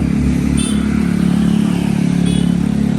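A Pulsar motorcycle exhaust revs loudly up close, a throbbing, rapidly pulsing engine note that swells and settles over a few seconds.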